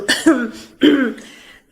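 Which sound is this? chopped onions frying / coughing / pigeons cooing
coughing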